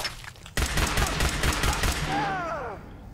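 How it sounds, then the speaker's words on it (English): A minigun in the game Fallout 4 opens with a sudden sustained burst of rapid gunfire, loud and dense for about a second and a half, then tails off into whining ricochet-like tones. "hear that minigun"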